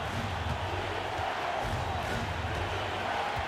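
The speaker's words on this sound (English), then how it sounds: "you've got to love hearing a crowd get this fired up" Basketball arena crowd cheering loudly during an overtime period of a close game, a steady roar of fired-up fans that runs unbroken throughout.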